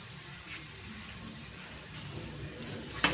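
A glass of water is poured into a pan of prawn curry with ginger paste in a home kitchen, giving a faint, steady splashing rush that lasts throughout, with a slightly louder splash near the end.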